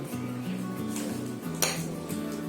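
A batter mixture with baking soda just added is stirred in a bowl, with soft wet swishing, a few utensil clinks against the sides and a steady low background hum, close and with no talk.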